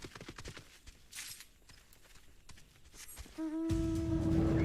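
Golden horse mount hooves clopping in Final Fantasy XIV, a quiet, rhythmic run of footfalls that gives way to a louder sustained tone at the end.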